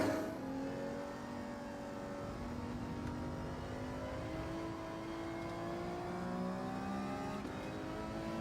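Race car engines in the video game Gran Turismo 7, a quiet, continuous whine of several engines with gliding pitches, fairly faint and steady.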